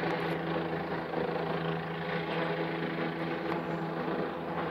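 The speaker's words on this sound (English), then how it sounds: "Dude, you hear that chopper. That's not a chopper that's just passing by, dude. That thing is right there above me." A police helicopter hovers low overhead, its rotor and engine producing a loud, continuous droning rumble with a steady hum that never fades.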